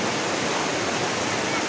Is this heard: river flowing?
yes